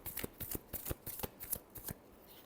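Tarot cards are shuffled by hand in a quick series of crisp riffling flicks, about a dozen close soft bursts in a steady rhythm.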